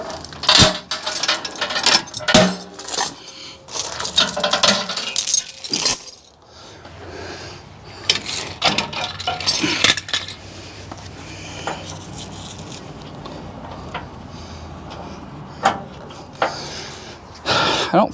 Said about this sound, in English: these chains are not long enough for a Jeep